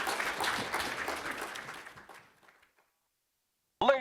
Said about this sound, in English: Please, a huge round of applause for our wonderful panel this morning.